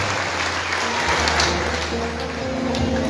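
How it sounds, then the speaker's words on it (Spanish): Enthusiastic applause from a congregation at a Catholic Charismatic Renewal gathering, a continuous wash of clapping lasting a few seconds, with faint background tones under it. "fuerte aplauso"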